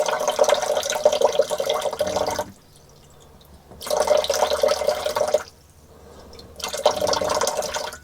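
Weak flow of drinking water runs from a filter tap with little pressure, in three splashing bursts separated by short quiet pauses, close and fairly clear.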